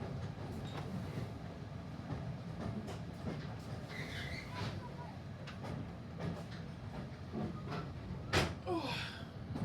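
Train hauled by a class 55 diesel locomotive, heard from on board as a faint, steady rumble of rolling wheels with scattered clicks and knocks, while quiet voices talk over it.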